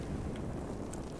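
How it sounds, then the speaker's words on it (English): Speeder vehicle in Star Wars: The Old Republic, a dense, rushing hum with a low rumble and airy hiss, continuous and fairly loud, without any voices. "Obviously, if we speed her up, you'll hear the speeder"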